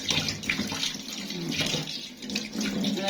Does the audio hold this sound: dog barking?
no